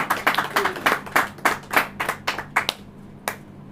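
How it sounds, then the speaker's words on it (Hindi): An audience at a church sermon claps in a run of crisp, separate hand claps, a loose rhythmic pattern that thins out and trails off into scattered single claps. "ताली हो जाइए।"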